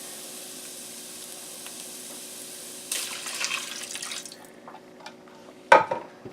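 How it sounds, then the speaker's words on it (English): Water poured into a hot pan of drained, fried ground beef: a faint steady hiss gives way to splashing and sizzling, ending in a sharp louder splash. "Add 2/3 cup of water."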